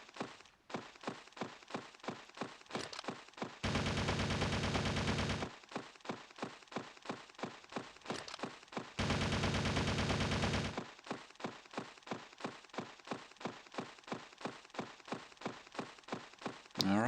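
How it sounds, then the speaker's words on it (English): Enemy gunfire in the video game Resident Evil Survivor: rapid regular bursts of shots with two long stretches of sustained, dense fire between them, loud and mechanical. "Try to take shots at us."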